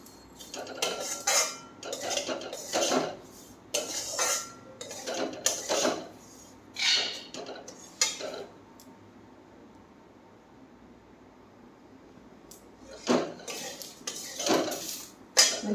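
Semolina dry-roasted in a pan over low gas flame, with a metal spoon scraping and clinking against the pan in bursts, a quiet pause midway, then more stirring.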